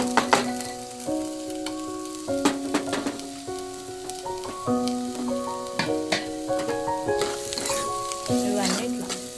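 Green chillies and onions sizzle and fry in a pan for veg momos, with steady crackling and repeated stirring clatters throughout, sounding close, while a melodic tonal background plays underneath.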